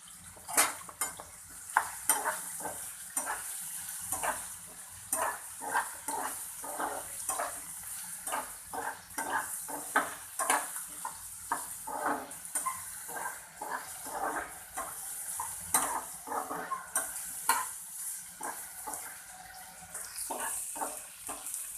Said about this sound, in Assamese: পিঁয়াজখিনি অলপ সামান্য ফ্ৰাই কৰি ল'ব